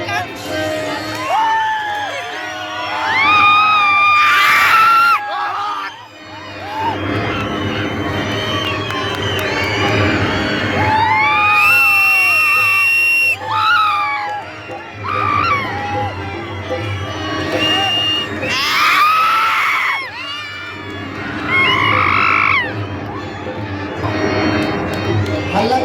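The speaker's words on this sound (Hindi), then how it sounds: "बच्चों से निवेदन है कोलाहल कम करो, पीछे सुनाई नहीं दे रहा लोगों को" A noisy crowd of children at an outdoor Ramlila performance shouting, whooping and cheering continuously, loud and close, with voices rising and falling in waves throughout.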